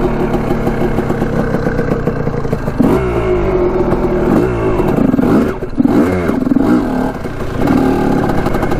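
A Honda CR250 two-stroke dirt bike revving hard while being ridden, loud and close, the engine rising and falling through repeated throttle blips and gear changes with a rattling, buzzing tone.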